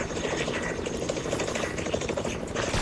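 A new helicopter in a video game makes a dense, continuous rotor and engine roar that stays loud and steady throughout.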